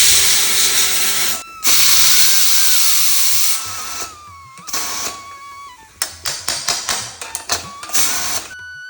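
A pressure cooker of lentils and vegetables gives a loud, steady hiss of escaping steam, then a thin whistling tone that wavers and fades, followed by a run of sharp clinks and knocks.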